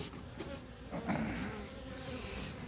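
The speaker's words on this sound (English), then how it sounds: "here's the team of cyber bees, and they are really buzzing around." Bees buzzing around an opened hive on a cool early morning, a steady close swarm drone with individual insects passing the microphone and no talk.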